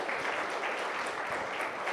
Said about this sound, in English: Please give them a large round of applause.